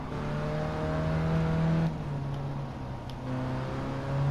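A race car in Gran Turismo 7 drives on a dry track with racing slicks, its engine droning loudly and steadily with pitch shifts as it revs and eases, with no speech.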